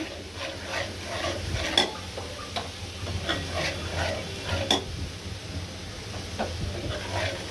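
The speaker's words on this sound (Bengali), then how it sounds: "নেড়ে চেড়ে দিচ্ছি।" A spoon stirs spice masala with chili powder in a cooking pan, giving a steady scraping and clinking rhythm over a soft sizzle of frying oil, close and continuous, no talking.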